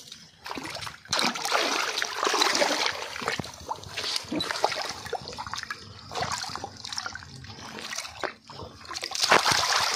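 A roughly 2.5 kg fish thrashes on a hook at the water's edge, throwing up repeated close, messy splashes and sloshes in irregular bursts that spray water about.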